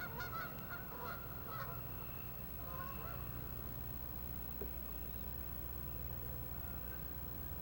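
A flock of geese honks in a burst of overlapping calls as they take off from a pond, then fades into a low, steady outdoor hum, faint and distant.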